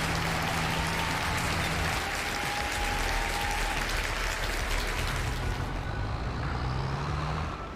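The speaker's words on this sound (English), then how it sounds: "Big old round of applause for Wicked Wolf Gaming." Sustained crowd-style applause from a Farming Simulator 22 live stream, loud and steady throughout with a broad noisy wash and faint tonal hum underneath, easing slightly near the end.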